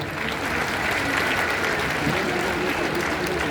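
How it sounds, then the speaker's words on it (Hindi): An audience at a celebration of the 150th Arya Samaj foundation day in Delhi applauds steadily to honour a 100-year-old leader, a dense, continuous clapping that holds at full strength without voices. "100 वर्ष के हमारे प्रधान जी का जरूर एक बार तालियां बजा के अभिनंदन करें।"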